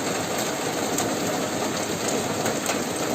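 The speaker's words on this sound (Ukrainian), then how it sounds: "Ви думаєте, в нас дощ перестиг?" Heavy rain pours down during a flood in Ukraine, a dense, loud, unbroken hiss of drops hitting surfaces that fills the whole stretch without pause.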